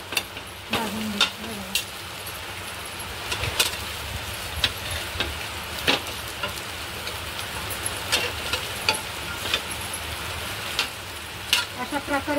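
Anda bread, egg-coated bread, sizzles in a lightly oiled pan while its second side fries, giving a steady crackle with scattered sharp pops and scrapes of a spatula.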